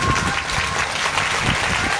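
Audience applause at a Hindu religious discourse on the Shiv Mahapuran: a dense, steady patter of many hands clapping throughout, fairly loud and close, with no clear voice over it.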